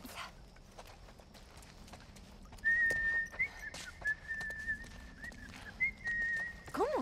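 A character in The Last of Us whistles a steady, clear tune in a few sustained phrases, close and fairly loud, over quiet background sounds and footsteps.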